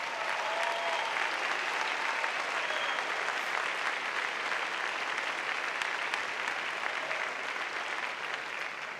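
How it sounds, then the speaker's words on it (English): A large crowd at a 2019 morning commencement ceremony applauds steadily and continuously, heard as a wide, even wash of clapping from a distance that tapers slightly at the end. "Let's have a round of applause for them as well."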